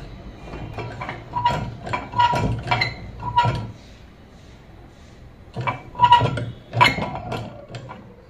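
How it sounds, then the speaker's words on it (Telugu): A small machine filling ink into ball pens for home pen making, running in bursts of rattling mechanical clicks and clanks, close and fairly loud, with a quieter gap midway before the clatter resumes. "ఇక్కడ మనం ఇంక్ ఫిల్లింగ్ చేసుకుంటున్నాం ఈ పెన్లో ఇంక్ ఫిల్లింగ్ చేయాలి"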